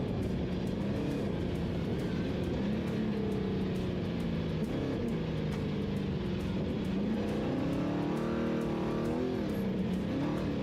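Trophy truck engine in the NORRA Baja desert race revving hard, its pitch climbing and wavering as the RPMs rise, loud and continuous throughout with steady road and wind roar beneath.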